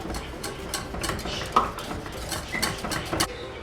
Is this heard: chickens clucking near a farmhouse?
no